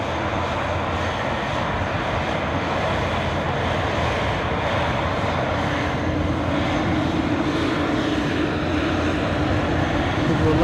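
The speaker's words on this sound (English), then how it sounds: "Loganairs on the move" A Loganair airplane on the move at Aberdeen Airport gives off a steady, fairly close engine drone that holds level and swells slightly toward the end.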